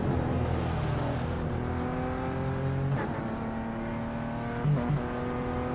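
In the iRacing game, a BMW race car exits the pits with a whining engine that rises through the gears. Upshifts mark the rising pitch, and a second car is faintly audible near the end.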